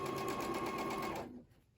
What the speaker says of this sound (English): Just match up the edges of your fabrics and sew.